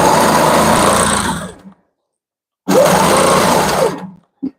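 Sewing machine basting a quilt from bottom to top, loud and close, running in two steady whirring bursts separated by a silent pause, with a couple of brief clicks at the end.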